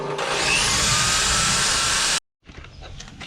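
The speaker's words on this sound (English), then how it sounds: "So, Jim is currently sanding, for example." A power sander works the aluminium hull of a boat in a hot, humid shed, a loud continuous whirring grind that cuts off abruptly, followed by quieter clattering and workshop noise.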